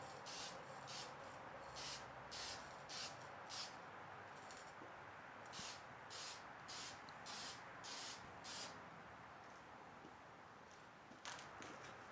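Short bursts of aerosol spray hiss in quick succession as a custom guitar body is spray painted, pausing briefly between groups of strokes, with no talking.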